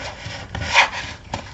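Paper card folded over and back, heard as a few short, close rubbing and creasing swishes in quick succession, with no talking.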